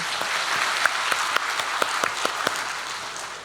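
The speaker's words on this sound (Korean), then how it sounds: "내 안에 오신 예수님께 영광의 박수 올려드리겠습니다" A church congregation claps together during a Sunday worship service at a Full Gospel church in Daegu, a steady, dense wash of hand claps with a few sharper individual claps standing out, filling the room for several seconds.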